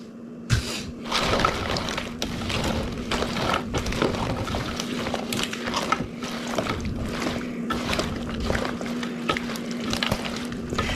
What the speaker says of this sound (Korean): 고추를 부어주세요